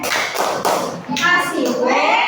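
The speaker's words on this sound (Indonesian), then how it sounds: "Kasih tepuk keren dulu. Tepuk keren." Fourth-grade schoolchildren in a classroom perform a rhythmic patterned group clap in short bursts of claps and hand taps, mixed with their own voices and chanting.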